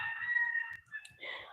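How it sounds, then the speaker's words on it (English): Silkie chickens calling close by, a sustained tonal crow-like cry followed by a short higher squawk, with soft thumps and low murmuring underneath. "the noise you're hearing is from the silkies,"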